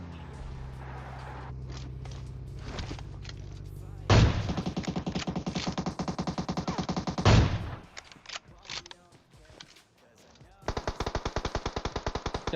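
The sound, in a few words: gunshots in PUBG Mobile video game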